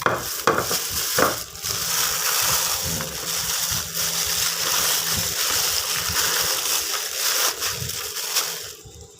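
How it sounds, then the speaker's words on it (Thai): Fish frying crisp in hot oil, a dense continuous crackling sizzle with bursts of bubbling and occasional clattering of the utensil, close and fairly loud throughout. "ก่อนจะมาทอดกรอบนะแค่กรอบๆเนี่ยนะครับ"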